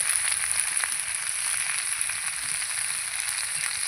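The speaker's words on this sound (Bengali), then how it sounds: "আমি এবার কুমড়োটা ভালো করে লাল লাল করে ভেজে নেব।" Pumpkin pieces fry in hot oil in a pan, giving a steady close sizzle with faint crackle. It runs evenly throughout with no voices.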